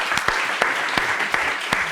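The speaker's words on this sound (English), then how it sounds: "So we applaud you again." Studio audience applause on a courtroom television show, a steady dense clatter of many hands with a few sharper claps standing out, fairly loud and filling the whole stretch with no talk over it.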